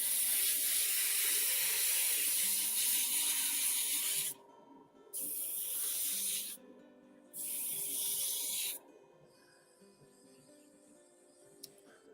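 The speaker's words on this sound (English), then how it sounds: "There's a noisy compressor." A noisy air compressor hisses steadily and loudly from nearby during a model build, with the hiss cutting out and resuming in two short bursts before dropping to a quieter background hum.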